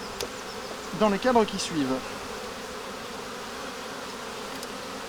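Honeybees from a strong colony on ten frames hum steadily around an opened hive, a constant close buzz that continues under a brief stretch of someone talking.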